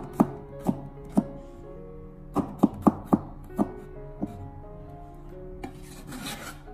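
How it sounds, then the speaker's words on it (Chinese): A knife chops fresh garlic into slices on a board, giving a dozen or so sharp, close thuds in an uneven rhythm with short pauses between them. "准备几颗新鲜的大蒜，把它直接的改刀切成蒜片"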